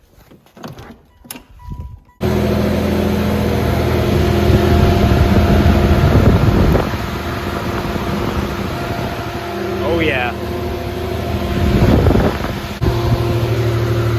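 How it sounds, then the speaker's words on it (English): A steady whirring upgraded radiator cooling fan on a Pontiac Fiero starts abruptly and runs continuously with a loud, even hum; a voice speaks briefly over it. "let's see if this fan turns on and works as it should"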